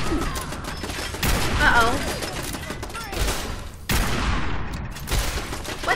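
Gunners enemies in Fallout 4 unleash heavy, sustained bursts of gunfire with booming impacts, while a player briefly exclaims over the chaotic shooting.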